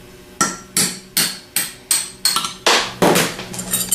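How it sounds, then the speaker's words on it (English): Sharp metallic hammer taps ring out as a rod is driven from a 37MT's fork with a quarter-inch extension, about nine close, evenly spaced strikes that quicken toward the end, with no talk. "We're going to take a quarter inch extension and tap the rod out from the small side."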